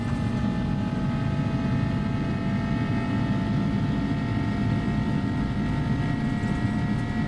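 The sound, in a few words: A300 engines at takeoff power in video game X-Plane 11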